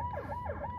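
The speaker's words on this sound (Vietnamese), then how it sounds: "Xe cấp cứu này thứ nhất lên từng chút một." An ambulance siren stuck in a traffic jam on the way to Cho Ray hospital, wailing in a steady, repeating up-and-down sweep, loud and close.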